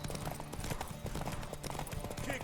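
Horse hooves clip-clop in The Witcher 3: Wild Hunt, a quiet, fairly quick rhythmic trot under game voices and background sounds.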